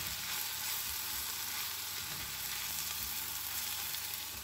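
Garlic sizzles in a pan with softened onions for a fish and vegetable casserole, a steady bright frying hiss that runs without a break at moderate level, with faint stirring bumps beneath and no voices.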